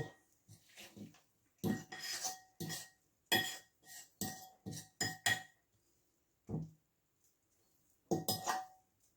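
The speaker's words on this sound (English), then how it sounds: "We'll just briskly stir it around to pick up everything from the edge of the bowl." Sultana bread dough is stirred briskly around a bowl, producing close, irregular bursts of scraping and knocking, each a second or so long and separated by short silences.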